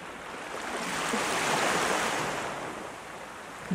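Ocean waves wash in a steady broadband roar that swells and slowly recedes, with no voice over the surf.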